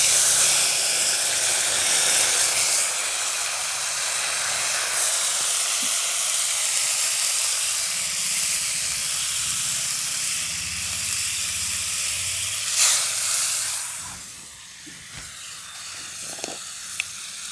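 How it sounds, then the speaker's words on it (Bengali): Mustard paste thinned in water hits hot tempering oil in a pan, bursting into a loud, hissing sizzle that holds steady, then quickly dies down to quiet crackles near the end. "এই যে বেটে রেখেছিলাম সর্ষে, সেটাকে একটু জলে গুলে আমি দিয়ে দেবো"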